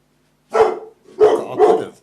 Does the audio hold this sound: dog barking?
yes